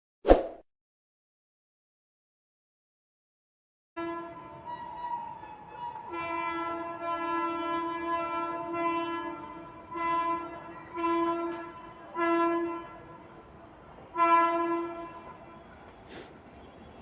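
After a brief knock and a few seconds of silence, a WAG9 electric locomotive sounds its multi-tone horn in a long, loud sustained blast that pulses in several swells, heard at a station platform.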